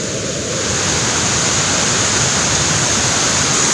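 Fast-flowing Palakol River in Floridablanca, Pampanga, swollen during the monsoon, a loud, dense, unbroken rushing roar heard close by with no voices.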